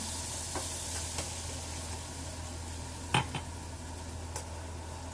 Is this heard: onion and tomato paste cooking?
yes